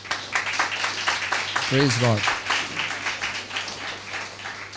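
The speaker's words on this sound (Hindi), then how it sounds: "क्यों ना ताली बजाएं इनके लिए।" Congregation clapping at a church service, fairly soft and scattered beneath a voice speaking briefly over it.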